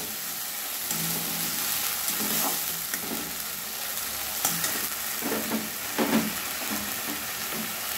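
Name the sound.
ginger garlic paste sizzling as it fries in a pan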